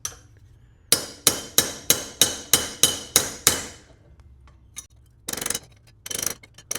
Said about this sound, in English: Get it on here and we can tap in the bend from the backside.